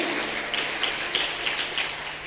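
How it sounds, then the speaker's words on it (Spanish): A church congregation claps in praise to God, a dense, steady wash of hand claps heard at moderate distance, continuous throughout with no speech over it. "un fuerte aplauso al Rey de la Gloria"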